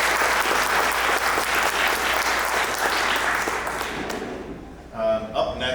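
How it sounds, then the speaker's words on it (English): An audience at a panel event gives a last round of applause for the panelists, sustained and dense, then fading away as a voice begins speaking. "can we give one last round of applause for all those panelists?"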